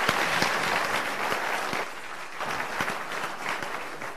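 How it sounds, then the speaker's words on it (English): Steady, dense applause from a conference audience at an airport industry congress, greeting a panel before a break, a continuous wash of many hands clapping throughout. "So round of applause for my panelists and refreshments."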